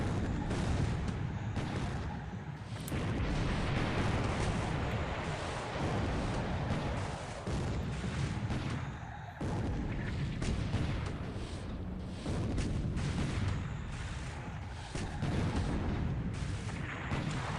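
Naval battle gunfire and artillery in the strategy game War in the Pacific, with a dense, continuous roar of overlapping booms and blasts that stays loud and unbroken for the whole stretch, no voice over it.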